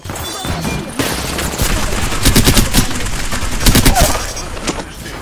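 Rapid bursts of automatic gunfire in the Apex Legends battle royale shooter, loud and dense, with clusters of shots in quick succession and brief explosive impacts, no speech.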